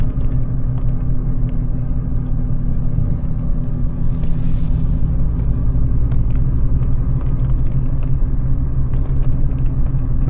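A car creeping slowly through a school zone by Bluescap Elementary gives a steady, close, low engine and road rumble for about ten seconds, with no one speaking.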